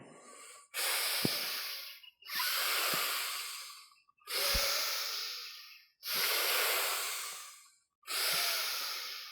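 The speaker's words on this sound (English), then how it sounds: "Breathe in from the spine" Slow deep breaths during a meditation practice, five long drawn-out hissing breaths close to the mic, each separated by a brief silent pause, with no speech.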